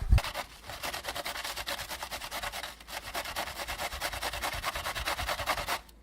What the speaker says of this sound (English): grab your half head of cabbage and start grating